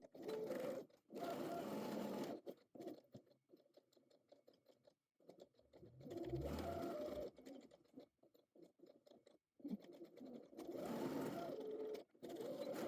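A sewing machine stitches along the seam line of a pocket's raw edges in several quick, quiet bursts of rapid mechanical chatter, with short silent pauses between runs.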